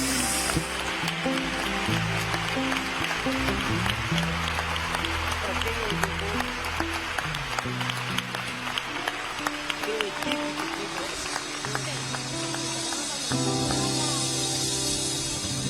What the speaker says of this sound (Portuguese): Aplaude eles